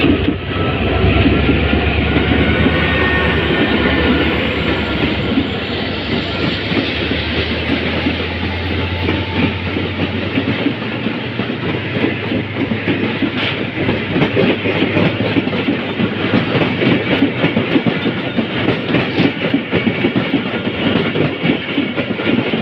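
The Bahauddin Zakariya Express passenger train runs steadily on rails, its loud, continuous rumble carrying a rapid clickety-clack of wheels over joints from inside the moving train.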